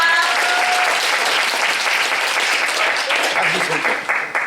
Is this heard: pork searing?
no